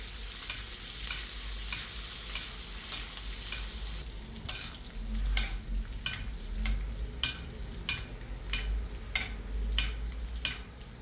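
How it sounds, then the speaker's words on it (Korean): Mallard duck breast frying in a pan over very low heat, basted with foaming butter: a steady close sizzle with a low rumble, punctuated by regular soft splashing strokes as butter is spooned over the meat. "버터를 넣고 나선 완전히 약불로 낮춘 다음 거품이 충분히 나도록 한 뒤 천천히 끼얹어가며 열을 먹여줍니다."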